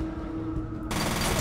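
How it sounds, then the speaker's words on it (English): Submachine gun fire in the game F.E.A.R. Perseus Mandate, a short burst of rapid shots that suddenly swells into a loud dense rattle near the end. "the submachine gun's pretty good against those things"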